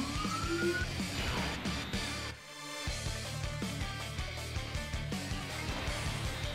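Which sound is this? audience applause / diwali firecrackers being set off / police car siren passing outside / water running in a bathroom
police car siren passing outside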